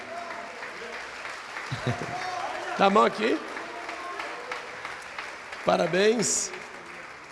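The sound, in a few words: church congregation applauding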